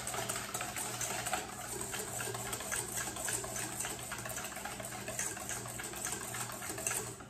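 Egg yolks are beaten with sugar, most likely by an electric mixer, giving a continuous close whirring and churning buzz with a steady hum that holds evenly throughout, with no voices.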